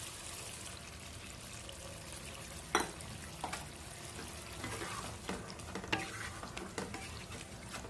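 Ground spice paste stir-fried in a pan for a spicy Bengali pomfret curry, a soft steady sizzle broken by several sharp scraping stirs and clinks of the spatula, close by with no talk.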